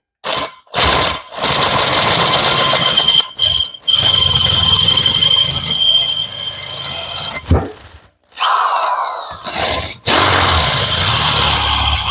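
A power cutting tool works a valve seat in a Vortec cylinder head, whirring in several loud bursts that start and stop abruptly, with brief silent pauses and a higher-pitched spin-up near the end.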